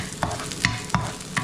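Chopped onions frying in a hot pan for pork and eggplant adobo, a steady close sizzle broken by four regular scraping strokes of a spatula stirring them, with no talking.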